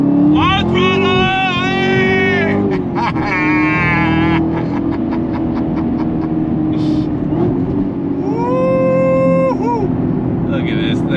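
A 2021 Chevrolet Camaro ZL1 1LE accelerating hard on throttle, its loud engine note rising and climbing through gears, with someone talking excitedly over it throughout.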